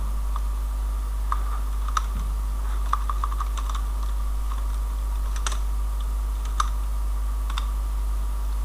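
PHP code for a barcode generator is typed on a computer keyboard: steady, scattered key clicks over a constant low electrical hum, close and fairly quiet.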